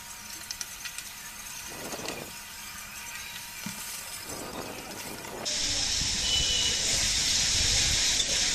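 Masala paste with salt, turmeric, chilli powder and cumin powder fries in oil for an egg bhuna. Quiet stirring scrapes and faint sizzling give way midway to a loud, steady, close hiss of bubbling oil.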